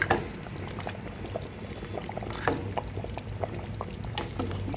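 Mackerel fish gravy simmers in a covered pot on a gas stove, giving a steady soft bubbling with scattered small pops and clicks, close and moderately quiet, with no voices.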